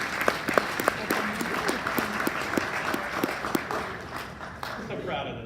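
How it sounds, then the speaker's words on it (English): At a conference talk on blockchain basics, an audience gives sustained applause, dense and moderately loud with distinct individual claps, which fades off toward the end. "Please give this some applause."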